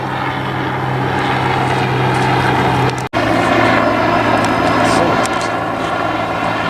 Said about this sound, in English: there's been helicopters, media, first responders, all kinds of helicopters flying around non-stop